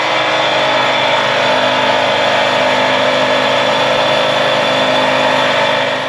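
A freshly rebuilt engine runs steadily on a test bench, a continuous mechanical drone with a constant idle hum and no noticeable revving, close and fairly loud throughout.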